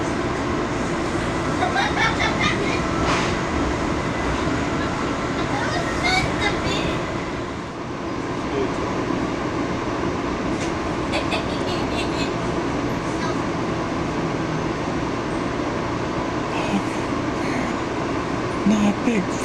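Amtrak's original Acela Express rides along the rails, a continuous close interior rumble with faint rhythmic clicks and a brief dip in level midway, with a voice talking over it.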